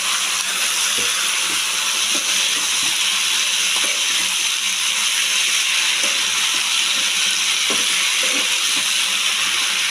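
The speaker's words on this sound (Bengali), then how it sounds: "এবার দিয়ে দিচ্ছি পুলমিটুলি আর দিয়ে দিচ্ছি সব সবজিগুলো" Malabar spinach stems and chopped vegetables hitting a hot pan for a prawn and vegetable dish, a loud continuous hissing sizzle with occasional faint knocks and scrapes underneath.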